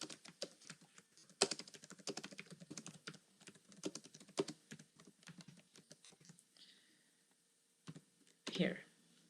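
Computer keyboard typing comes in bursts of quick, light key clicks under a voice, with pauses between runs of keystrokes and a louder clatter near the end.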